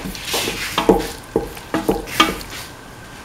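A spoon stirs curried cauliflower in a sizzling pan, with about six distinct scraping strokes over a soft frying hiss, close up.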